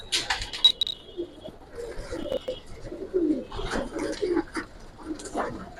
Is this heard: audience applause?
no